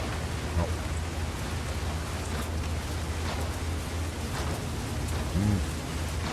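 Steady rain pours down in a dark outdoor scene of the horror video game The Beast Inside, a dense, even hiss with faint low rumbles underneath and no voices.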